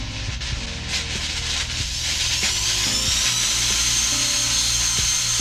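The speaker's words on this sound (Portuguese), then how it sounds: "Tá ouvindo o barulho da furadeira?" An electric drill runs continuously while its voltage is raised through a high-current AC load control circuit, whining steadily with a rising high-pitched tone alongside uneven mechanical rattling.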